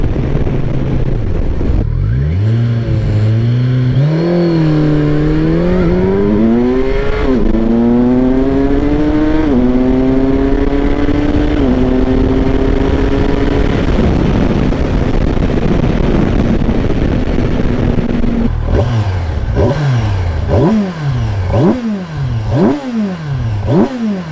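A 2023 Kawasaki Versys 1000 SE adventure touring motorcycle pulls hard at full throttle in 6th gear from about 3,000 RPM, its loud engine note climbing steadily for a long stretch before settling into rising and falling revs, close and continuous.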